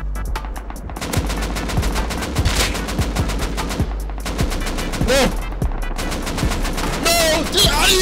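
Rapid, sustained gunfire in Rust, shot from a minicopter, with dense automatic bursts over a steady rotor drone and occasional brief talk.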